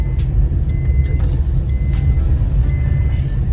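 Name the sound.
car being driven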